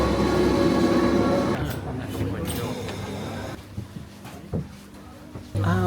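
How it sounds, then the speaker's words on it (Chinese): A train on the Jungfrau railway at Eiger station in Switzerland, heard as a loud rumbling run that fades into quieter station ambience with scattered knocks, with people talking nearby. "等一下我们要从 Eger 这个车站搭火车上到少女峰的山顶"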